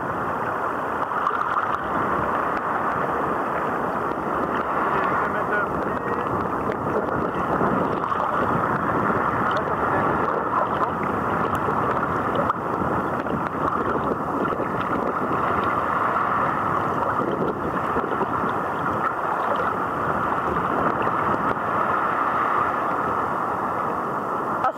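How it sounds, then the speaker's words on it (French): Steady, loud morning wind rumble buffeting the microphone at a nautical club on Réunion Island, with a constant broad roar and no pauses. "il y a trop de vent"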